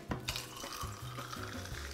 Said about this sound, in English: and add the soda water